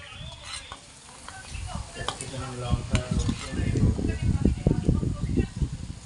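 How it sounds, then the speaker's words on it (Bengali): Capsicum hitting hot oil in a pan of fried onions while making pasta at home: a sizzle with stirring and scraping of utensil against the pan, building louder in the second half, with a voice talking throughout. "পেঁয়াজটা ভাজা হয়ে গেছে, এবার ক্যাপসিকাম দিয়ে দেবো।"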